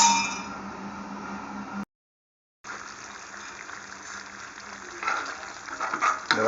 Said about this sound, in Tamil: இதை வந்து இப்போது நல்ல ஒரு கிளறி விட்டுட்டு நீங்கள் ஒரு 10 நிமிஷம் இதை வந்து கொதிக்க விடுங்க